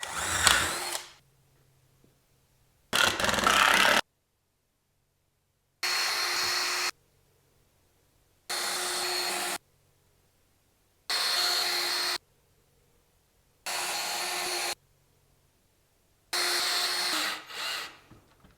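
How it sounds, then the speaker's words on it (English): A power drill drives screws into wood while a chicken coop is being joined, heard as seven separate bursts of a steady whirring motor of about a second each, spaced by short silences, loud and close with no talking. "I am going to be using screws to clamp these together because I don't have enough clamps."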